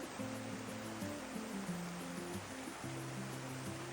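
A river stream flows through forest on the Gunung Machinchang trail in Langkawi, a steady broadband rush of water that runs unbroken throughout, with soft low tonal notes layered beneath it.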